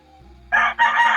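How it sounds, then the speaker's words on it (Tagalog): A rooster crows loudly and close by, one long cock-a-doodle-doo broken by a short dip midway, after a moment of near quiet. "may tilawak na yung manok mo"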